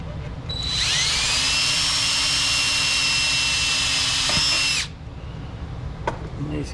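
A power drill whines at high pitch for about four seconds, then stops, followed by a couple of sharp metallic clicks.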